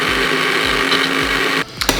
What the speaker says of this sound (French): maintenant il reste plus qu'à mixer, on y va.